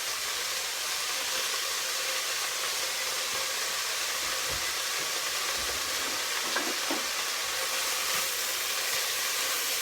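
Vegetables, leeks for potato leek soup, sautéing in hot olive oil in a pan, a constant close, loud hissing sizzle with a few faint crackles and no talk.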